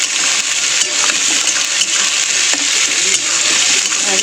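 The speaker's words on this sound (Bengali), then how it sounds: "আর পেঁয়াজটা ভালো করে লাল লাল করে ভেজে নেব" Diced onions fry in a pan for a home-cooked meal, giving a steady, close, even sizzle and hiss with faint crackles throughout and no talking.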